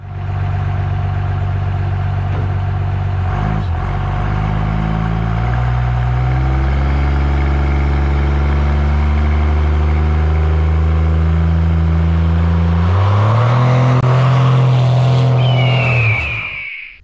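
12-valve diesel truck fitted with a Diesel Auto Power Screaming Eagle S362 turbo driving, a loud, constant engine drone heard from inside, with the pitch climbing as it accelerates and shifts and a rising turbo whistle near the end.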